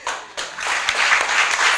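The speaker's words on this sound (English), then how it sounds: "A very, very warm round of applause for the entire panel." An audience gives a warm round of applause for a discussion panel, with dense clapping that starts in bursts and swells into a steady, full ovation.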